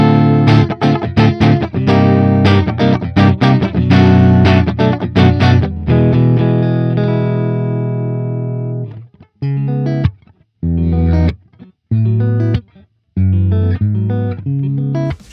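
Ibanez AZ series electric guitar with two single-coil pickups simulating a thick, warm humbucker tone, playing strummed chords and sustained notes, then choppy, stop-start phrases with short silences between them.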